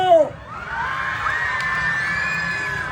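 A pageant audience at a national costume event cheers and whoops loudly as one sustained crowd roar, with a brief shout at the start and no distinct clapping standing out.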